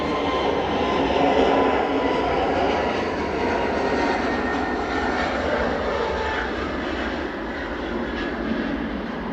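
EasyJet Airbus A320neo taking off from runway 05 left at Manchester Airport, a steady loud jet engine roar heard from a distance that slowly fades, with no voices.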